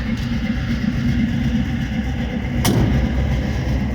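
A car engine idles steadily after a carburetor idle adjustment, a low continuous rumble close by with one sharp click partway through and no talking.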